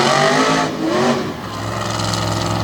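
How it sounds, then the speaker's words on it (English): A 96 Ford-bodied race truck on a Barely Tame Patrick chassis revs hard in the dirt while trying a donut at a Renegade MTT best-trick event in Selinsgrove, PA, the loud engine surging, dipping, then climbing again. "Trying to get a donut going, kicking up the dust"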